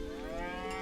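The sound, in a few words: cow mooing in a video game trailer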